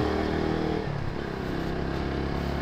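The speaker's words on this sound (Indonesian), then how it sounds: "setelah ditutup IS-nya, itu knalpotnya bassnya makin oke, makin apa ya, makin enak didengar lah suaranya" A motorcycle idles steadily with its intake closed off, giving a deep, bassy exhaust rumble that stays close and continuous throughout with no talking.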